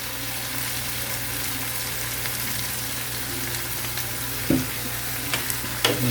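Chicken fried rice sizzles in a hot pan with chilli and soy sauce, a steady loud frying hiss with a few scraping stir strokes near the end and no talk.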